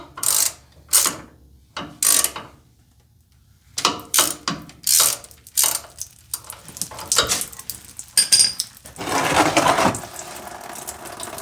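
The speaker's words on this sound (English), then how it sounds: "So I just have to attach my ratchet and I can get this loosened up." A ratchet works loose the radiator drain on a 3rd gen Toyota 4Runner, giving loud bursts of rapid clicking separated by short pauses, close up and with no talk.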